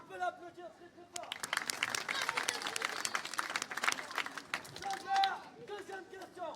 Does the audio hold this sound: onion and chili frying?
no